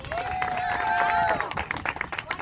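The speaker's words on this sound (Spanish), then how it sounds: "Así que un aplauso para estas grandes estrellas." Audience applause at an award ceremony for young children's teams, a dense steady wash of clapping from a crowd with a few cheers, loud and close, holding throughout.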